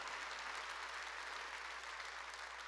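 A church congregation breaks into clapping during a sermon, a steady, even wash of many hands sounding distant and soft, with a low hum beneath.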